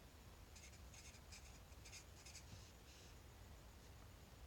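Pen or marker writing out an equation, short scratchy strokes in quick bursts with small pauses between them, faint and close, with no talking.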